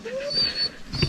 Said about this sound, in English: I'll play with this dog for some time.